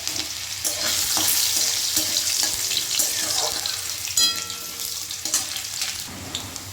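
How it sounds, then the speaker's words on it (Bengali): Potatoes tipped into hot oil over a tempering of bay leaf, dried red chilli and cumin seeds, letting out a loud, close hiss of frying that holds steady, with bursts of crackle and spattering and a few clinks of the pan. "ফোড়নটা ভাজা হয়ে গেছে দিয়ে দিলাম আলুটা"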